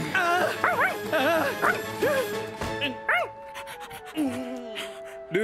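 A cartoon dog in a children's animated rescue-team show gives a run of close, high yips and barks, then softer drawn-out whimpers and whines that trail off.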